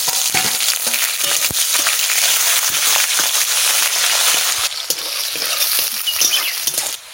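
Cumin, bay leaves and onion sizzle loudly in a pan of hot oil for a chicken curry, a dense steady crackle with scraping stirs throughout and no talk.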